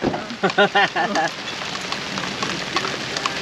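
Steady hiss of sleet mixed with small hail and snow pattering down outdoors onto a welcome mat, with a voice speaking briefly near the start.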